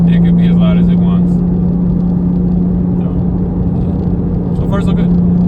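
A Porsche Boxster S with newly installed exhaust headers, heard from inside the car with the windows down as a loud, steady droning engine hum while driving, with a voice faintly over it.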